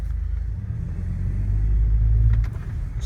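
A 1999 Ford F-250 4x4 Lariat pickup with a V10 engine drives along, giving a steady, close, low rumble that swells slightly midway, with no voices.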